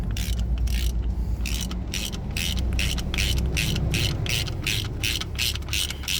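A ratchet with a 17mm socket clicks in a steady rapid rhythm while tightening the front brake retaining bolt on a DAF LF horsebox, close and loud with brief pauses between strokes.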